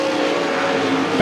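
Sprint cars roar around the Willamette Speedway dirt oval, a loud sustained engine drone with a sharp burst near the end.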